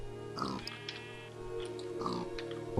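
A Minecraft pig, one of two nearby with a piglet, gives two short grunting oinks about a second and a half apart over a quiet, steady game background.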